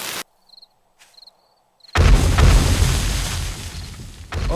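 Detonated charges go off in the 7 Days to Die video game. A few faint clicks in near silence give way to one sudden, heavy blast that rolls into a long, loud rumble before easing off.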